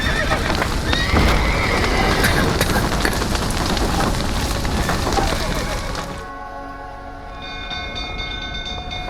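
Horses whinny and neigh in the video game The Witcher 3: Wild Hunt amid a loud, chaotic rumble of hooves and commotion, which cuts to a quieter stretch with a sustained musical tone.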